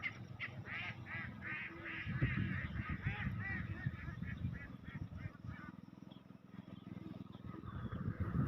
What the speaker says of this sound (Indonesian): Nah, ini itik